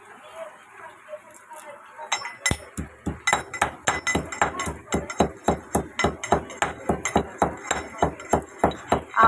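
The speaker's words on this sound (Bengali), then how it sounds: "এই যে গরম মশলাটা থেতো করে নেবো একটু।" Whole garam masala spices are pounded in a rapid, regular series of sharp, ringing strikes that start sparse and quickly settle into a steady, close beat.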